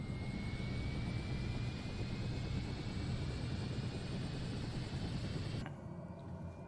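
Turboprop engine of a Daher TBM 930 in Microsoft Flight Simulator, a steady loud roar with a rising whine that runs evenly for several seconds, then cuts off abruptly near the end, leaving a quieter hum.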